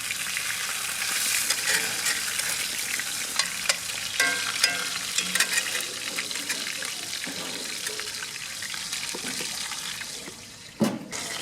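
Marsala chicken cooks on a backyard barbecue grill with a constant crackling sizzle and scattered pops, interrupted near the end by a sharp thump.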